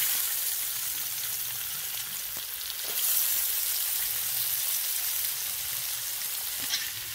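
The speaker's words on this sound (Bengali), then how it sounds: "তো ওই তেলে আমরা গোটা গরম মশলা আর গোটা জিরা দিয়ে দেবো। পেঁয়াজটা দিয়ে দেবো।" Whole garam masala, cumin seeds and onion fry in hot oil with a steady, close hiss and sizzle, fine crackles throughout and a slight swell midway.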